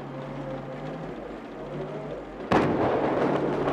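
A C4 charge detonates in Battlefield 4: a sudden loud, close blast with a rumbling tail cuts in over a steady vehicle engine drone.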